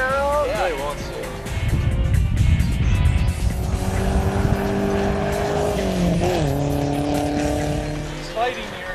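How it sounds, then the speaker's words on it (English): A street-driving car slides into a drift, its tires squealing in long wavering tones over engine roar, while people talk excitedly over the sound. "Sliding here into the drifting."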